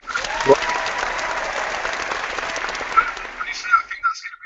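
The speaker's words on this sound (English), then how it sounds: "You deserve a clap for that." Applause in the form of broadband clapping, fairly loud and continuous, with voices audible over it before it thins out toward the end.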